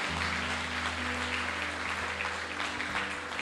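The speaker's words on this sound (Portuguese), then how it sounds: "nós vamos aplaudir eles bem forte" A church congregation applauds visitors with loud, dense, sustained clapping that fills the room from start to finish.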